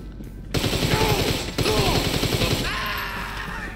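Gunfire in GTA 5 Online during a police shootout. Dense bursts of rapid automatic shots sound loud and close, broken by a short gap, then trail into a fading engine or siren drone.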